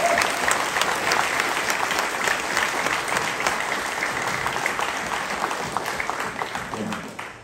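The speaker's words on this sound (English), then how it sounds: "I would like all of you to give a great round of applause for the two finalists from this morning." A large live audience at a drum festival applauds the two drum solo finalists, steady dense clapping that holds loud and even for about seven seconds before tapering slightly at the end.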